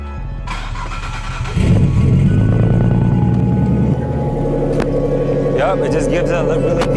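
A Porsche sports car engine cranks and catches, then settles into a deep, steady rumble that stays loud and close through the end.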